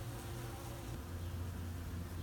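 Honey bees crowd around wet hive-mates smeared with honey, making a faint, steady, close buzzing drone with no other sound over it.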